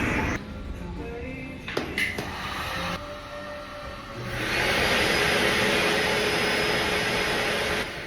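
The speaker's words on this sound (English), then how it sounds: "I'm trying to vacuum." After a few clicks and light knocks, a vacuum cleaner switches on midway and keeps running with a steady, loud whooshing drone.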